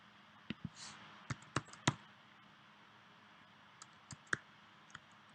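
Scattered keystrokes on a computer keyboard, a few quick clicks in a short burst followed by sparse isolated taps after a pause, close and quiet.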